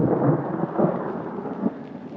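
Thunder from a storm on a mountaintop rolls as a deep, loud rumble that swells and fades over a couple of seconds, mixed with rain, and no one speaks.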